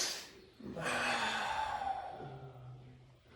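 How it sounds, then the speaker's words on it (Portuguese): A single slow, deliberate yawn during a breathing exercise, a soft breathy inhale rising into a drawn-out voiced exhale that fades away, quiet and close. "Um bocejo consciente"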